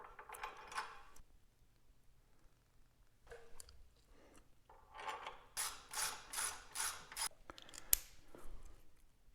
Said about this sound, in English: we're going to tighten them down to 50 Newton meters